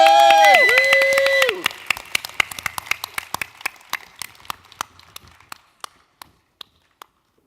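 Scattered hand claps from a small open mic crowd after a performer is introduced, starting after a voice and fading into a few slow isolated claps.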